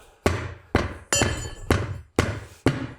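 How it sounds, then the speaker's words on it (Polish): A small hammer taps six times at an even pace, each strike a sharp, close, ringing knock that decays quickly before the next, with no talk. "Młoteczkiem."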